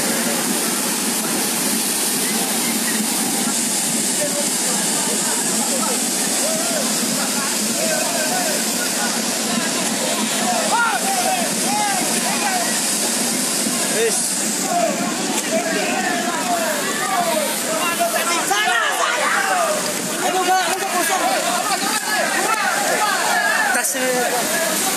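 Floodwater from an overflowing river rushes in a steady, loud broadband roar near a threatened bridge during a flash flood in Southeast Aceh, with voices talking and shouting over it throughout.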